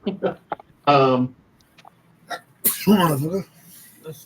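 A single sharp sneeze bursts out mid-conversation among tabletop roleplaying players, loud and close, with voices talking before and after it.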